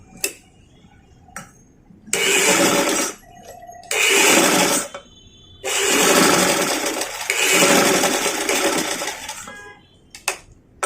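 Domestic sewing machine stitching the neckline seam of a frock's fabric, running in three long loud bursts separated by short pauses and faint clicks, with no talking.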